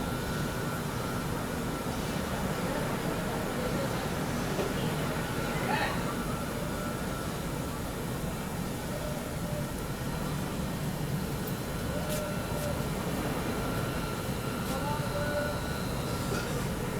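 The Guwahati to New Delhi Rajdhani Express rolls slowly along the rails with a continuous low rumble and steady hum that holds for the whole stretch, while faint talk sits underneath.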